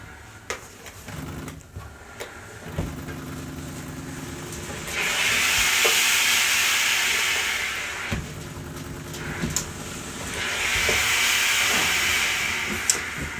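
A steam iron pressing a shirt, releasing two long bursts of hissing steam separated by a pause, close and fairly loud over soft handling clicks and thumps.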